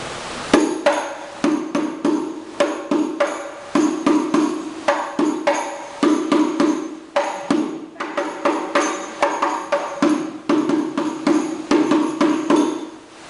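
Hadroh frame drum playing the pukulan naikkan beat, sharp close strikes in a quick repeating rhythm with brief pauses between phrases, loud and alone.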